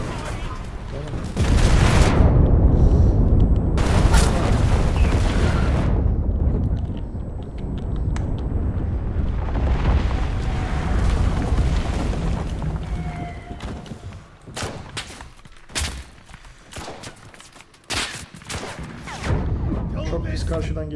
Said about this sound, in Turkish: Lan habire bomba patladı da nişan tadamıyoruz.